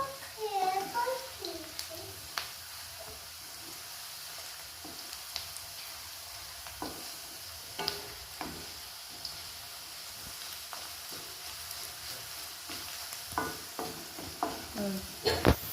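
Onions frying for uppittu, a soft continuous sizzle with scattered spoon scrapes and taps against the pan, and a voice chattering briefly at the start.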